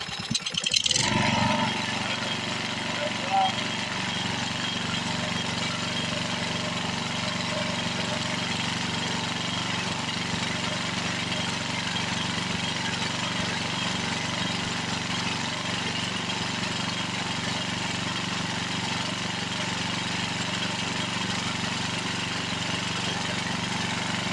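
An old abandoned Toro Recycler lawn mower engine idles steadily after a brief louder burst at the start, a constant mid-pitched drone with no speech over it.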